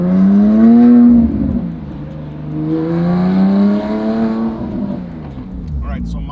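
A Porsche 997.2 GT3 RS driving on a backroad, its engine a loud continuous tone whose pitch rises and falls with revs and shifts, fairly close throughout.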